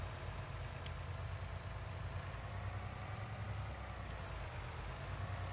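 A vehicle engine idles in Farming Simulator 22, a steady low rumbling drone that holds evenly throughout with no voices over it.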